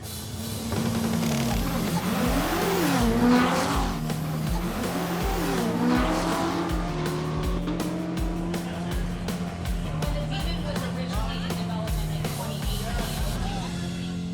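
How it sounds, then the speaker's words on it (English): Pickup trucks drag racing: powerful engines roar and rev, tires squealing with rising and falling pitch, loud and close, with faint voices underneath. "This is a new thing where they're drag racing with people."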